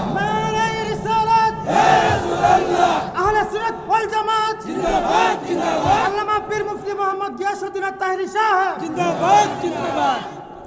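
A large open-air crowd of thousands roars a loud chanted response in unison to a takbir call at a religious gathering, the massed voices swelling in waves across the whole stretch.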